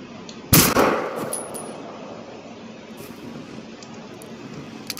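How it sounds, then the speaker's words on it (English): Submachine gun fired as a test shot into the air in Generation Zero: one sharp, loud report with a quick follow-up crack, then a ringing metallic tail fading into quiet outdoor ambience. "I'm gonna fire a test run in the air."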